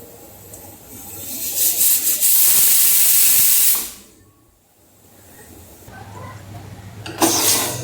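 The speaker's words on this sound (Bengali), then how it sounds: "চারটে সিটি দেওয়ার পর আমি এবার কুকারটা খুলবো" A pressure cooker cooking thick dal on medium heat lets out a loud, sustained whistling hiss of escaping steam for about two seconds. The hiss then cuts off sharply, leaving a quieter background, and a second, shorter hissing burst follows near the end.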